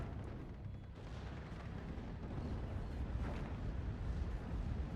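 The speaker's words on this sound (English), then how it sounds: "Yeah, that is definitely a precision barrage." Precision artillery barrage in Steel Division 44, heard as continuous dense low rumbling with overlapping distant booms and blasts, steady and loud without pause throughout.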